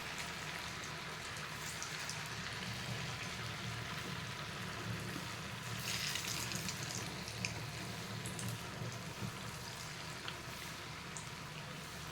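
Maize flour vadas sizzle steadily in hot oil over a low flame, a dense continuous crackle and hiss with a brief louder burst of spattering partway through.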